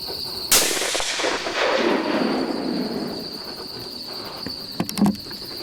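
A muzzleloader fires once at a buck during an early-season rattling hunt outdoors, a loud sharp blast that rolls off into a long decaying echo over steady insect and cricket buzz, with faint knocks near the end.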